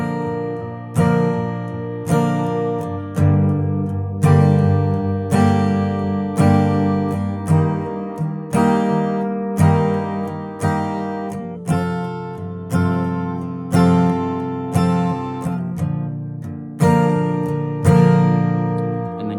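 Acoustic guitar strums the chord progression of a song in a steady, even rhythm, each chord struck clearly and ringing, played alone and close.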